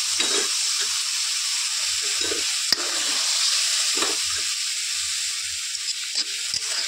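Juice poured into a pan of curry with manimuni leaves and dried fish, giving a loud steady hiss and sizzle, with intermittent scraping stir strokes and one sharp clink, and no voices.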